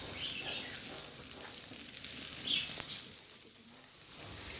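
Tulingan fish and whole chicken sizzle on an outdoor grill with a soft, continuous crackle. A few faint chirps sound in the background.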